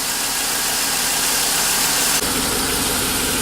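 A 2003 Chevrolet Suburban engine, just back together after a water pump replacement, running at a steady idle with a constant broadband rumble and hiss, close and unbroken throughout, with no one talking.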